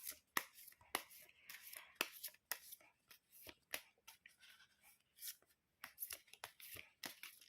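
Tarot cards shuffled by hand at close range, with a rapid, uneven run of crisp riffles and slaps that continue steadily throughout.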